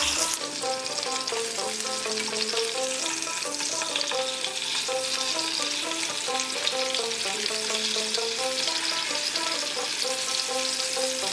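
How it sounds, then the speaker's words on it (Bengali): Hilsa fish frying in hot oil, cooked gently one piece at a time for a Bengali oil curry, giving a steady, close, dense sizzle throughout with no talking. "এক এক করে মাছগুলো ছেড়ে ভেজে নেব। হালকা করে ভাজবো"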